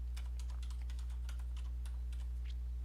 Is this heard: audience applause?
no